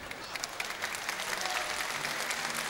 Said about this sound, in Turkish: ne diyorsun bu alkışa?